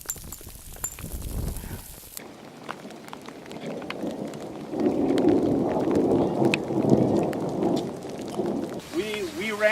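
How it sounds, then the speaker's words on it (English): Hail coming down hard during a storm on a Mount Whitney hike, a dense, steady pattering patter that swells after a few seconds, with hikers talking nearby over the noise. "And it's really hailing, so my butt is just gonna hurt."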